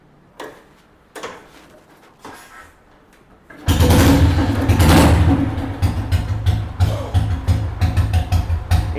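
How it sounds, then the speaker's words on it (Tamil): A restored Royal Enfield G2 motorcycle begins with faint mechanical ticks. Then the engine bursts in loud and close, settling into a rhythmic, thumping idle. "இன்ஜினோட தம்ப் கேளுங்க,"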